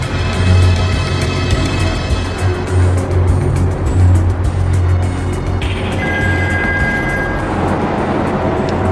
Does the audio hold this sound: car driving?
yes